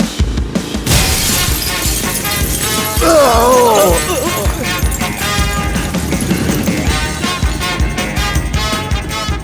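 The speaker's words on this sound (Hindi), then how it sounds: "दरवाजे से भी आ सकता था ना, वो कांच को क्यों तोड़वाया?" Glass shatters loudly as a film hero bursts through it, a sudden crash with ringing shards amid a busy dramatic music score.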